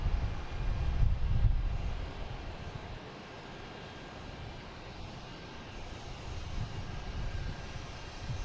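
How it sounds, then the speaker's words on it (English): A Delta Airbus A321neo jet airliner passes at a distance near Boston Logan airport, a low, broad engine rumble that swells early then settles into a steady distant roar. "There's Delta heading to, going to Salt Lake City. A321neo flight 445."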